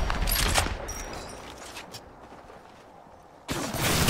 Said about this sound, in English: Troy, getting shot at